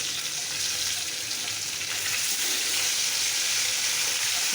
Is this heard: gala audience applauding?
no